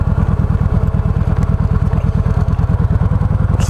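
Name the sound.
Harley-Davidson motorcycles outside a hotel at night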